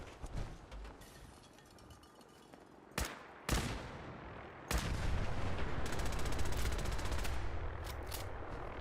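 Rapid gunfire aimed at a Deathclaw in the game Fallout 4, with sharp isolated shots early on, then a loud sustained burst of automatic fire with metallic clinks filling the later seconds.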